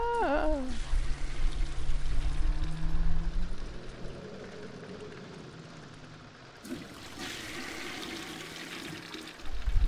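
A toilet known as the Death Flush roars as it flushes, a loud rushing gush of water at the start that fades to a steady trickle and swirl, with a second surge of water near the end.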